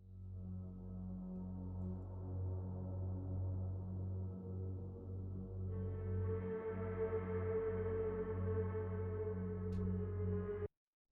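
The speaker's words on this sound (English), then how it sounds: "I've grabbed a backing atmosphere from a sample pack, and I've just chopped it up" An unprocessed backing atmosphere from a sample pack, chopped into sections, plays as a steady, dense sustained pad with heavy low end that brightens partway through before cutting off abruptly, with no talking.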